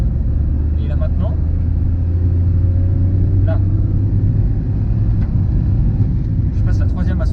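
A 2010 Toyota Aygo with a 1.0-litre three-cylinder 68 hp engine pulls uphill in third gear near 70, a steady low droning rumble heard from inside the cabin while someone talks over it.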